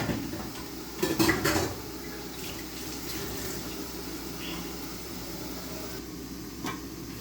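Fish curry being stirred in a cooking pot, a burst of metallic clatter from the utensil against the pot near the start, then quieter scraping and bubbling with a low background hum, no talk.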